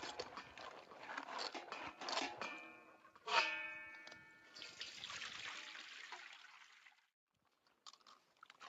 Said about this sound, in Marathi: दोन पाण्याने आधी धुवून घेणार आहे चांगलं.